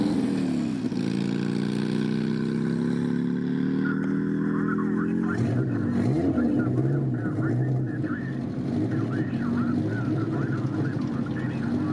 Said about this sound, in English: Another sidecar competitor starts with a Harley frame and motor.